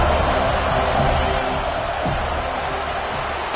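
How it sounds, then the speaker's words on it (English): A college football stadium crowd cheers for the defense on third down, a steady, loud wash of roar with no distinct breaks. "Decibels rising as the crowd gets behind this defense on 3rd down"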